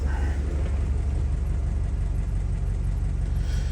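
A warmed-up Ford Model A engine with a Holley 94 carburetor idling, a steady low rumble running evenly throughout, close by.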